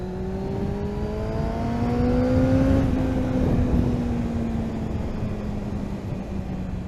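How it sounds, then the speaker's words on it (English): A Kawasaki ZX6R Ninja J2 sports motorcycle engine hums steadily at close range, its pitch climbing smoothly and then easing off as it settles back into a constant drone, heard alone without talk. "Such a lovely sounding bike, this."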